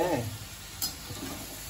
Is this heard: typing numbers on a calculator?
no